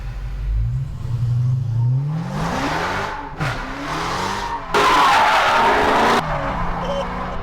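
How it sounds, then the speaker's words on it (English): A 700 horsepower Dodge Charger drifts at Speed Vegas in Las Vegas, heard from inside as a passenger: the engine revs and climbs while the tires screech and skid in loud, sustained bursts, with no talk. "This is the drift experience at Speed Vegas, where you ride as a passenger in a 700 horsepower Dodge Charger."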